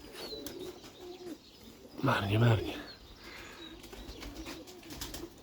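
Pigeons call and coo nearby in a loft, with a louder burst of cooing midway, while a person speaks briefly over the steady background chatter of the flock.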